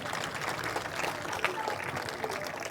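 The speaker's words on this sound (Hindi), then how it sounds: "अर्पिता बहन और कोमल बहन के लिए जोरदार तालियां।" Applause from a village crowd at a welcome ceremony in Khedar for gold medal-winning athletes, a steady broadband clatter of clapping continuing throughout at moderate level.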